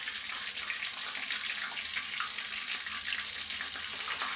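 Chicken fried steak frying in vegetable oil on a stovetop, a steady bright sizzle and crackle running unbroken throughout, alone without any voices.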